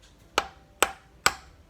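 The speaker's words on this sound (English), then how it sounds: "So you'll see if I hammer this a little bit." A hammer tapping a seal on a Nissan MQ Patrol front differential during a teardown, three sharp metallic knocks evenly spaced about half a second apart, close and clear with a quiet background.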